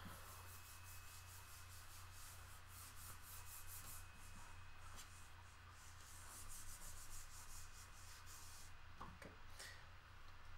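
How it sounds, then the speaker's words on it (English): An eraser rubbing across a board during a physics review lecture, a faint, steady scrubbing swish repeated in quick strokes for about ten seconds over a low room hum, with no talking. "So I'm going to erase this."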